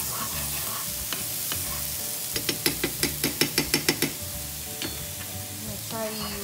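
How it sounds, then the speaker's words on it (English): Full spoonful of garlic heating in a pan for a spicy barbecue-style Zingers sauce, a steady low sizzle with a burst of sharp stirring clicks in the middle, close and alone. "So just let that garlic, don't let it burn, but just let it heat up a little bit."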